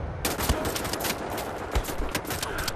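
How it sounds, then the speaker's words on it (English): Enemies in Wolfenstein: The New Order fire on the player in rapid, loud automatic bursts with sharp individual shots punching through steady gunfire. "Who's shooting at me now?"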